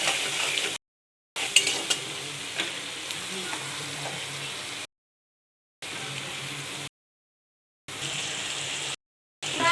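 Chopped onions salted in a hot pan fry with a steady, close sizzle and occasional stirring scrapes, the sound broken by several silent gaps.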